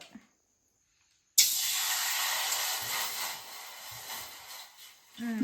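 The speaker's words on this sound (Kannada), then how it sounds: "1 ಕಪ್ ಪಟ್ಟ ನೀರು ಹಾಕೋ ಬಾಣಲೆ ಒಳಗೆ" Water poured into a hot pan while making Maggi noodles bursts into a loud, sudden hiss that holds steadily for several seconds and then eases off.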